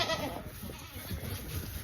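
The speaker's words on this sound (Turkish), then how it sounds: "Bir de burada keçinin birinin balaları var." Goats and their kids bleat in a barn, a steady overlapping chorus of close, moderately loud calls running through the whole stretch with no talk.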